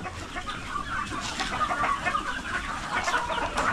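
A flock of chickens clucks continuously nearby, busy overlapping calls against a noisy farmyard background.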